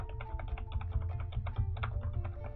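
Keys on a brand-new computer keyboard are pressed one after another in a quick, irregular stream of soft clicks, close up, over a low steady hum.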